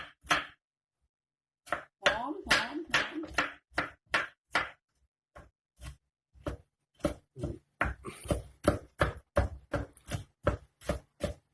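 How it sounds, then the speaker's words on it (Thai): Rapid knife chopping of fingerroot on a cutting board, a long run of sharp, evenly spaced thuds after a brief pause, close and fairly loud. "หั่นมุนๆนะคะ"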